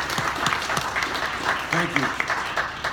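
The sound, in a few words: audience applause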